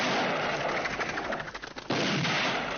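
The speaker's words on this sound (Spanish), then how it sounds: "la secuencia comienza con unos disparos y unos pájaros que revolotean por el aire" Rapid bursts of gunfire crackle through a ranch hunting scene from a Sergio Leone western, dense and loud for nearly two seconds, then a brief gap before another sharp blast and sustained noisy ring-out.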